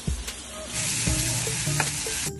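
Tomatoes and coriander leaves sizzle in a hot pan, a close, continuous frying hiss with a few knocks and scrapes of a stirring spoon.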